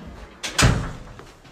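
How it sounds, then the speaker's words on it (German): A door slams shut with a single sharp, loud thud, preceded by a brief softer knock, in an indoor room with no talking. "Tür zu,"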